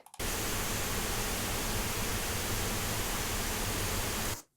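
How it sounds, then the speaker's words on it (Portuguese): Steady pink noise test signal used as a mixing reference, a dense, even hiss spread across the whole range that starts abruptly, holds constant for about four seconds, then cuts off. "Um é um ruído rosa"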